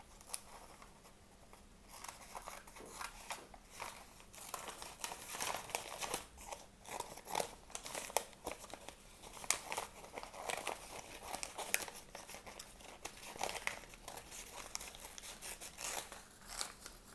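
Scissors snip steadily through paper while cutting out a drawn maple leaf shape for a craft, a close, continuous run of crisp cuts and crinkling paper with no talking.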